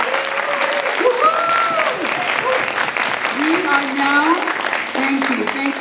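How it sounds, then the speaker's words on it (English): An audience at a vocabulary bowl competition applauds the competitors with steady, sustained clapping throughout, while a voice talks over the noise. "give a round of applause to all of our competitors tonight"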